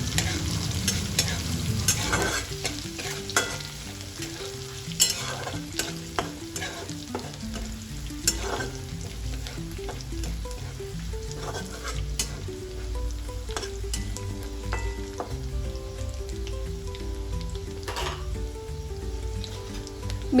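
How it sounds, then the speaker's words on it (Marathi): Crushed garlic and cumin sauté in a pan for pumpkin (kashifal) sabzi, a steady close sizzle with repeated scraping stirs and small clinks throughout, no talking. "ठेचलेले लसूण आणि जिरे टाकून घेतलेले आहे आणि हे सर्व चांगले मी आता परतवून घेणार आहे"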